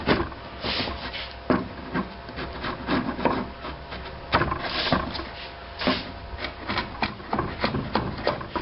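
Sharp chisel paring and scraping wood while building a log cabin style wishing well, giving repeated rasping, rubbing strokes in an uneven rhythm, close and moderately loud throughout.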